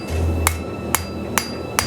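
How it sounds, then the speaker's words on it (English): Hammer blows planish metal at a blacksmith forge: four sharp, ringing strikes spaced evenly about half a second apart, close and loud over a steady low hum. "More hammer blows."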